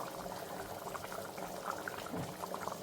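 Coconut oil poured into a simmering taro curry, producing a steady, close bubbling and gurgling of liquid over a low, even background.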